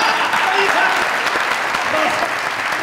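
Studio audience applauding at a comedy talk show, a dense, steady burst of clapping throughout, loud and close, with no gaps.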